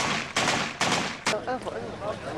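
Gunfire and blasts from a street battle in Mosul, Iraq, as Iraqi special forces clash with ISIS fighters using bombs and weapons; several loud, sharp bursts ring out over a rough, noisy background.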